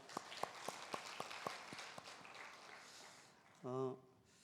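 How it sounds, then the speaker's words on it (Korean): Faint, steady clapping from a church congregation during a Sunday service, evenly paced and somewhat distant, fading out before a brief voice is heard. "우리 감사하다고 박수할까요?"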